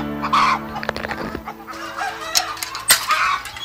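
A rooster of a new breed crowing and clucking on a farm, with sharp repeated clucks and a crow rising over a busy background of other fowl, close and loud.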